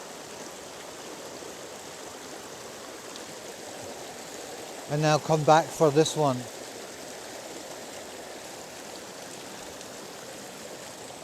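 A morning waterfall and stream rush in a continuous, even wash of water noise, with a brief spoken phrase from someone standing nearby midway through.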